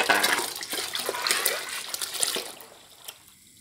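Rice flour batter pours into boiling water with a loose, splashing trickle that fades toward the end, close by with no talk.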